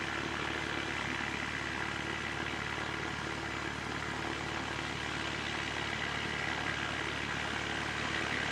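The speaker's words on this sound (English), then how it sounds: "OJS, this is the aircraft" An aircraft at Christchurch Airport in wet, rainy weather gives a steady, broad engine roar from a moderate distance, unbroken for the whole stretch with no talking.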